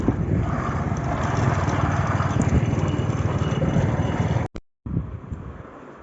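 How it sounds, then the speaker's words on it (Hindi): Motorbike engine droning steadily while riding, with wind noise over the microphone and a brief dropout near the end before the engine returns. "और ये मैं बाइक चला रहा हूँ, आप देख सकते हैं।"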